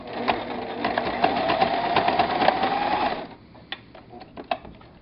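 A sewing machine runs a zigzag stitch along the full length of elastic on kids' pajamas, a fast steady whir for about three seconds, followed by a few light clicks and handling taps.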